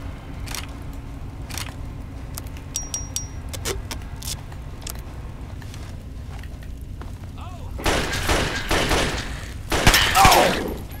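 Gunfire in Fallout 3 crackles as a run of sharp shots in the distance over a steady ambient game bed, building to a louder, denser burst of firing near the end.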